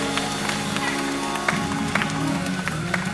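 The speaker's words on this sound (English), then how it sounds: "Give the Lord a hand clap of praise." Church congregation clapping hands in praise, a steady crowd of claps filling the room at moderate loudness with occasional sharper claps and a faint murmur of voices underneath.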